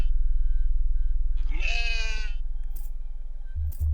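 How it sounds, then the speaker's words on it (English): Goat bleating in the horror game Fear and Hunger: Termina, a single loud, wavering bleat standing clear of a steady low game hum, followed by a couple of brief clicks. "Damn goat. I heard you could actually recruit the goat, but I'm not sure how."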